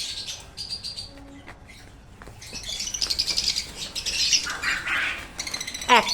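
Green opaline budgerigars in an aviary colony chirp and squawk loudly, with bursts of wing-flapping as birds take flight close by, building into a busy chorus.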